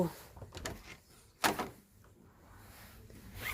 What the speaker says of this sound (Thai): เปิดประตูเข้ามา